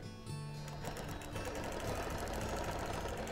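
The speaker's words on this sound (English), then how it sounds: "now I'm going to start stitching" A longarm quilting machine stitches binding onto a quilt, giving a soft, steady mechanical hum with rapid regular needle ticking that starts just after a quiet moment and then continues evenly.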